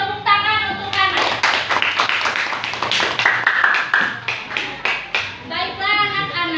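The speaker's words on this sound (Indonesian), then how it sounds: "tepuk tangan untuk anak." Students in a classroom clap for a classmate, a burst of quick hand claps of a few seconds, close and fairly loud, with a teacher's voice speaking just before and after.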